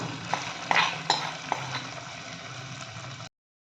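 Spoon stirring a tempering into bottle gourd kootu in a pot, with a few quick scrapes and metallic clinks over a soft bubbling hiss, ending abruptly.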